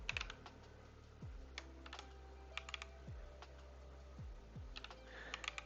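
Rapid keystrokes on a computer keyboard during a coding session, a steady run of clicks with brief pauses between bursts, close and alone with no talk.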